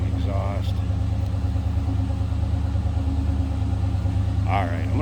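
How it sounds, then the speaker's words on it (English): A stock 1988 Chevrolet Monte Carlo SS idles with a steady, deep, low exhaust rumble close by, and brief voice-like sounds rise over it at the start and end. "Nice sounding exhaust"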